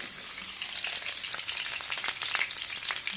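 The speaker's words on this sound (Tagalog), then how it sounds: "I-gisar muna natin." Garlic and onion sauté in a pan, a loud, dense crackling sizzle up close, broken by quick scrapes and spatters.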